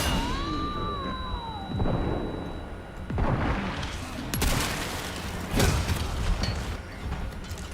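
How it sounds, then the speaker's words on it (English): A flashbang grenade detonating in a first-person shooter game, heard as a loud burst of booming explosions and gunfire amid dense game noise, with a high ringing whine at the start and no speech. "Let's try a flashbang on this guy."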